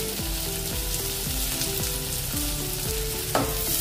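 Finely chopped green chillies and carrot sizzle and fry in hot oil in a pan, a steady close crackle with stirring, plus a short clatter near the end; no one speaks.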